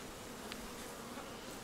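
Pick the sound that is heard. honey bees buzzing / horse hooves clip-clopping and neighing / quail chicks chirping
honey bees buzzing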